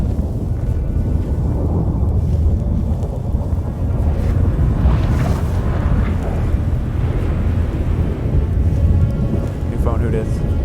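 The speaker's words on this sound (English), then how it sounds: "That a storm?" A thunderstorm rolls through in The Witcher 3 game, with a deep continuous rumble of thunder and rain noise, loud and close, building to a sharper crack midway.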